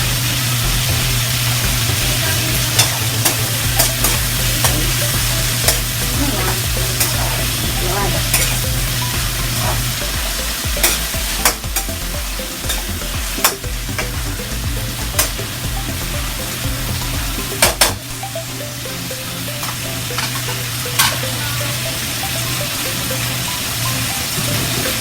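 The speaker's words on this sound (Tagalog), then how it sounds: "gisa-gisa muna natin ng konti" String beans and squash sauté in a pan with a steady, close sizzle and repeated scraping stir strokes from a utensil, running for the whole stretch with no talking.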